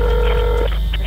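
Telephone keypad dialing during a 911 call, a short series of close, clear touch-tone beeps over a steady low hum.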